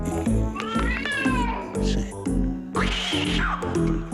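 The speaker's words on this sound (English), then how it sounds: "Cats." Several cats meow in quick succession, loud and close, with drawn-out, rising and falling cries overlapping one another, followed by a longer wailing meow.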